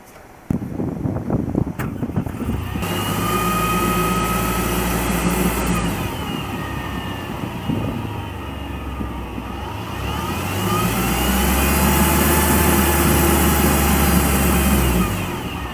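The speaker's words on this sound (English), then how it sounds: "hear what the car will sound like when you start it up" A car engine cranks and fires up, settles into a steady idle, then revs into a louder, sustained whining roar. No one speaks.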